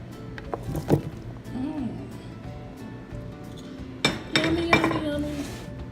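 Curry chicken being stirred in a pot on the stove, with soft scraping and scattered clinks of a utensil against the metal, a couple of louder knocks standing out over quiet kitchen background.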